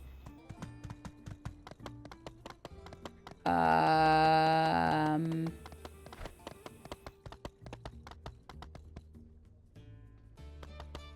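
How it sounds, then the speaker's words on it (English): Horse hooves clip-clopping at a steady trotting rhythm as a horse is ridden in the video game My Time at Sandrock, close and clear, briefly covered by a loud game jingle partway through. "I'm enjoying riding this horse."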